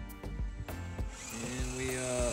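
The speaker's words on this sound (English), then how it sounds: "Okay, so now we're drilling." A power drill bores into timber while building a 16-foot wooden footbridge, with a steady motor whine rising after a few opening bumps, close and fairly loud.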